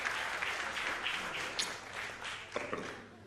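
An audience claps together in applause at a Santiago evening science talk, a dense steady patter of many hands with a few sharper claps standing out, holding level for the whole stretch with no voices over it.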